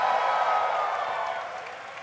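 An audience at a live RT Podcast taping gives a brief cheer mixed with clapping, a diffuse roar that starts fairly loud and gradually fades over about two seconds, with no one speaking.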